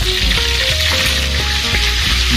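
Steady, loud frying sizzle of chilies and tomatoes for sambal fills the whole stretch, with faint low clicks and shifting tones underneath, no voices present.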